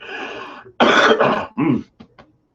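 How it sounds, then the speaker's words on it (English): A few harsh coughs and throat-clearing bursts close to the mic, one long rough cough followed by shorter hacks trailing off. "I love that cough coming back."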